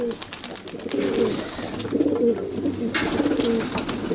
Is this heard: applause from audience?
no